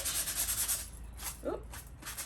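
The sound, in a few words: sanding an edge with 120 grit sandpaper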